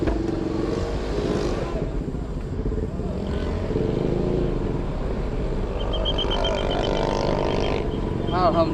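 The engine of the vintage heritage car Republik 2 runs steadily, a rough continuous rumble with some clatter, while people talk nearby.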